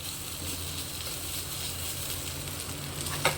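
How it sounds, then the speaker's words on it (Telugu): Egg and brinjal sizzle in a hot pan for vangi fried rice, a steady close-up crackle with no talk over it, ending in a light clink of a utensil. "ఎగ్గు వేసుకొని ఆ ఎగ్గు కొంచెం వేగాక"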